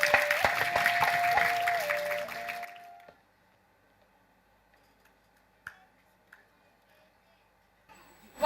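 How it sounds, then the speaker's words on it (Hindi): Audience clapping at a stage cultural programme: dense, loud applause with some tonal music underneath for about three seconds, then fading to near silence broken by a few faint knocks. "मैं निवेदन करता हूं आपसे जोरदार तालियों की गड़गड़ाहट से स्वागत करें"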